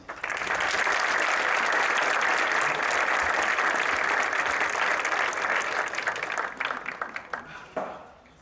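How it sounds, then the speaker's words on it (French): An audience at an evening lecture in France applauds its two speakers: dense, sustained clapping that holds steady for several seconds, then thins into scattered claps and fades near the end. "je vous invite à applaudir nos deux conférenciers"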